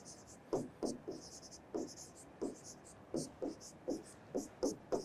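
Pen scratching across paper in short, quick strokes of about a dozen scribbles, close and fairly quiet, with a faint murmur in the background.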